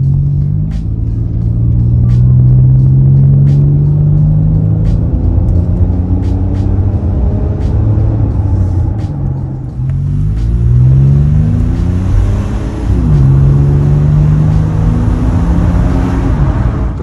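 A Mitsubishi Pajero 3.0 engine revs through a newly fitted exhaust, a loud, close, steady rumble that rises and falls across several throttle blips with a deep, smooth tone and no talking.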